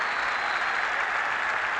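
An Irish football crowd at a Northern Ireland versus England match roars and applauds in a thick, continuous wall of noise, steady and loud across the short stretch with no single voice standing out.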